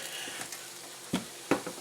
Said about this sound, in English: I'm adding some olive oil to the pot, just enough to cook up this fish and these vegetables in.